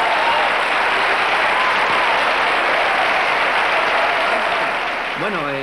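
Guests and the studio audience of a 1995 Spanish TV game show applaud a champion, loud continuous clapping at a steady level that tapers slightly near the end as a voice briefly rises over it.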